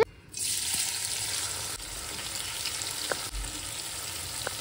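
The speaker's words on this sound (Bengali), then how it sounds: "পেঁয়াজ দিয়ে দিলাম, পেঁয়াজগুলো একটু ভেজে নেব লাল লাল করে।" Onions dropped into a hot pan, bursting into a loud, steady sizzle that continues throughout, with a few faint clinks of stirring over it.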